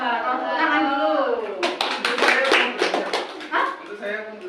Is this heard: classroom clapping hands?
yes